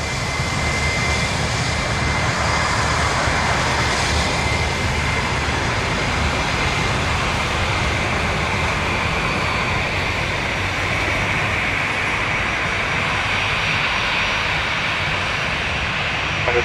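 United Airbus A319 taking off at Toronto Pearson: a loud, steady broadband jet engine roar that holds throughout, with a constant hiss and no talk over it.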